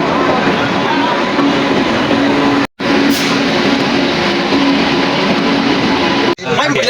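A passenger train runs along the rails on a trip from Pune toward Tirupati, its steady loud rumble filling the whole stretch with two brief cutouts. Faint voices are mixed into the noise.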